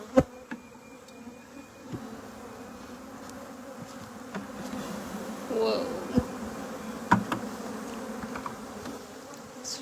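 A honey bee swarm buzzes steadily at close range, a dense drone from many bees with individual insects passing near, broken by a few sharp clicks and knocks.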